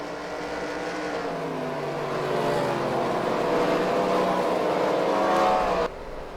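Race cars on a pace lap at Fort Miami Speedway in a racing video game, a steady layered engine drone that grows louder and fuller, then cuts off abruptly near the end.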